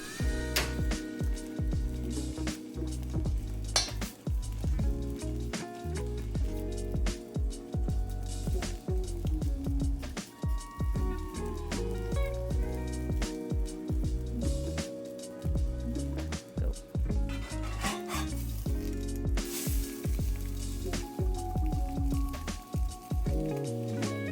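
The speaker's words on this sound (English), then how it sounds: "use this bacon grease to fry your egg. Crack your egg into the hot pan, pop the middle, season if you wish, and let it cook." An egg fries in hot bacon grease in a pan, giving a continuous crackle of pops and spatters close by, with no talking throughout.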